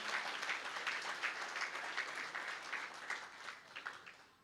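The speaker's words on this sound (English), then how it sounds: "Big round of applause for all of you." Audience at a children's hospital anniversary celebration applauding visiting guests, a fairly faint, continuous patter of many hands that thins out and tapers toward the end.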